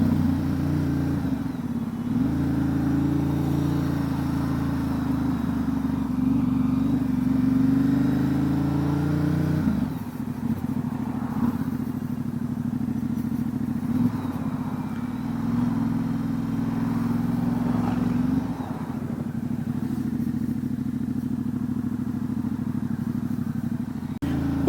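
A 2019 Ducati Diavel 1260 S with a Termignoni exhaust rides along a road, its engine droning steadily with shifts in pitch as revs rise and fall, close and continuous over wind noise.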